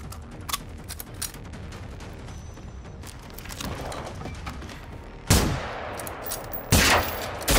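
Gunfire in the game Generation Zero comes as scattered sharp shots and bursts over ambient noise, then two loud, close blasts near the end.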